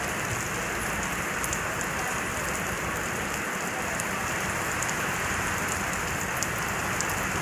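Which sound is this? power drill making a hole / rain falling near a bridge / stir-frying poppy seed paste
rain falling near a bridge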